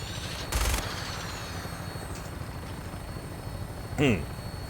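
In Fallout 4, a steady helicopter rotor drone runs beneath a short burst of gunfire near the start and another sharp shot-like burst later, with a voice speaking over the scene.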